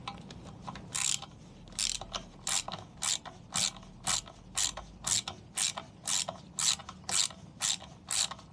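A hand ratchet undoing the stand bolts on a 1983 Suzuki FZ50 motorcycle, with about a dozen crisp, regular clicking strokes close to the microphone and no talking.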